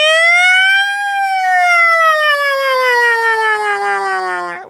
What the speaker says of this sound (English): We gotta get the ambulance.